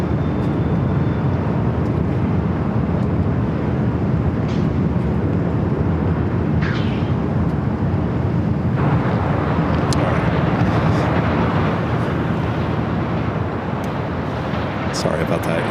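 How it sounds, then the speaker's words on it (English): Jet airliners taking off from the south runways at Los Angeles LAX airport, a steady broad engine roar that holds loud throughout, with a radio-style voice talking over it. "We have a lot of takeoffs happening on the south side."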